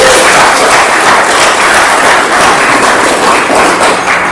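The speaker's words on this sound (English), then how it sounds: "So let's give all of them a big round of applause." Dense, loud applause from the audience at a 2024 opening and keynote event, a steady unbroken wash of many hands clapping together throughout.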